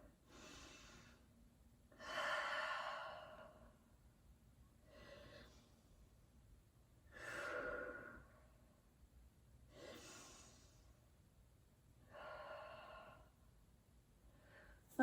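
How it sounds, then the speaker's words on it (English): Slow, deep breaths during a prenatal yoga upper-back stretch, about five long inhale-exhale cycles spaced a few seconds apart, soft and close with quiet pauses between, no talking. "3 more breaths here"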